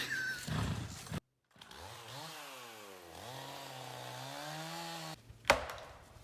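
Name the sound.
chainsaw cutting a tree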